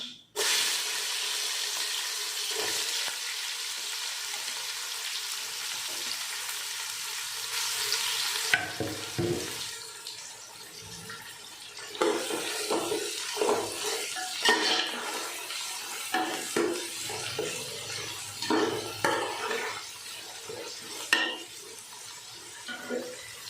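Onions hit a pan of hot oil with popping mustard seeds, a loud steady sizzle that later breaks into scraping and clattering as the mixture is stirred, close up with no talk.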